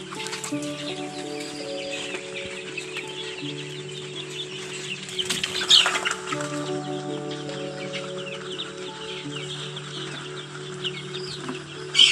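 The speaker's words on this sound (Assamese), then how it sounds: "মুৰ্গীয়ে খাই আছে।" Chickens cluck and murmur nearby while eating moringa leaves, a busy, overlapping stream of soft calls that grows louder in brief bursts midway and at the end.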